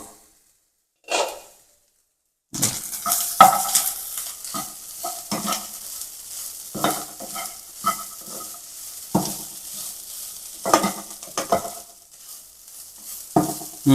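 Spiny amaranth thoran cooking covered in a pan, with clattering stirring strokes and a steady sizzle after a couple of isolated knocks, loud and close with no talking.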